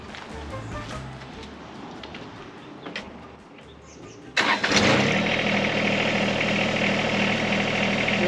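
A John Deere 1025R compact tractor engine cranks and catches at about 4.4 seconds, then settles into a steady, loud idle that runs to the end, after a quieter stretch of ambient outdoor sound with faint birds.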